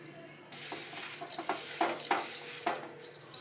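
Uncooked rice is worked together with cardamom, cinnamon, cloves, chopped ginger and raisins, a continuous close scraping and rustling with a few louder grainy swishes, recorded alone with no talking.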